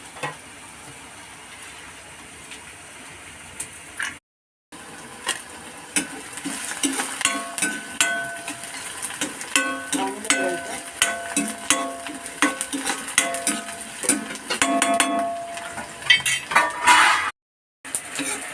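Onion and dry bombil fish roasting in a pan for chutney, with steady frying sizzle under repeated clinks and scrapes of a utensil stirring against the pan, two brief silent gaps breaking the sound.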